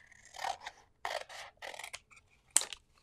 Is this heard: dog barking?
no